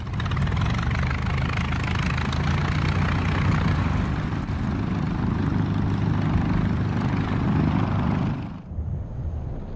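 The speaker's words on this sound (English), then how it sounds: "Battle-hardened Spads and Nieuports from France were to become the major aircraft of" A World War I propeller fighter such as a French Spad or Nieuport drones steadily and loudly, its engine roar holding constant for about eight seconds before cutting off abruptly, leaving a faint hum.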